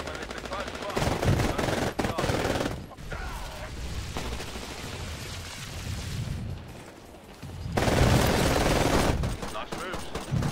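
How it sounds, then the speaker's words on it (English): Titanfall gunfire comes in sustained automatic bursts, loud and close at the start and again near the end, with quieter battle noise in between. "I'm getting shot! Who's shooting at me?"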